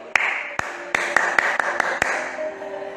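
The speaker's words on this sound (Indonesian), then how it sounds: "Tepuk tangan dulu" A handful of sharp hand claps ring out unevenly at a seminar-style sharing session, about ten distinct snaps spread over a few seconds with no voices over them.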